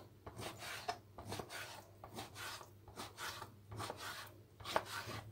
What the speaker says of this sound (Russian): Теперь нарежу небольшими кусочками говядину.